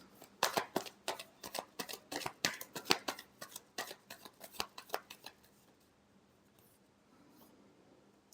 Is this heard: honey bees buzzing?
no